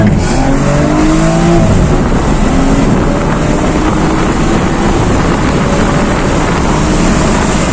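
A BMW M135i xDrive LCI with 326 horsepower and an M Performance exhaust accelerates hard, a loud continuous engine drone with rising gear pulls and heavy wind noise throughout.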